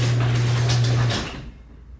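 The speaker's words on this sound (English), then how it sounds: "So now the garage door is closed." A garage door closes with a steady mechanical rumble and a low motor hum that runs for about a second, then stops abruptly and leaves quiet room tone.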